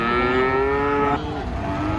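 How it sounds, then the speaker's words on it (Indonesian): Young calves moo loudly and repeatedly as cattle come down off a truck, their long tonal calls overlapping one another up close with no talk over them. "Pada teriak suara sapi nih. Suara sapi pedet."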